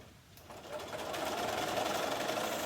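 Sewing machine stitching 6.5 inch quilt blocks together, a steady close whirring hum that spins up within the first half second and then runs continuously at an even speed.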